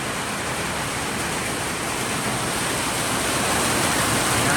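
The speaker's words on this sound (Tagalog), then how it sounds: "Kaya bumagsak na po ang malakas na ulan." Heavy rain pours down in a dense, continuous hiss that stays loud and even throughout, with no voices over it.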